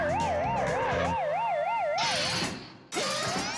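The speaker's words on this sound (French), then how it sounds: "Quand quelqu'un essaye d'ouvrir une porte ayant une alarme, elle se met en marche en faisant retentir sa sirène" A door security alarm siren wails in a warbling, rising-and-falling tone, loud and close, then breaks off into harsh bursts of noise with no voices.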